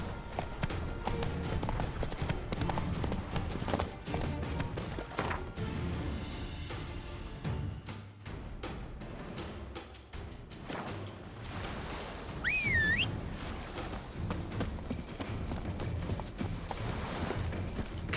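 Roach the horse gallops in The Witcher 3, rapid hoofbeats pounding close and loud over game music and effects, with a short rising whistle near the end.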